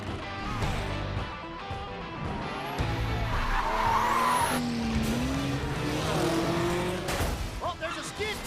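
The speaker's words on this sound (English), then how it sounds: "Oh, there's a skid." In The Crew 2 racing game, a car skids with long, pitch-sliding tire squeals over roaring engines, loud and continuous, while a commentator talks over it.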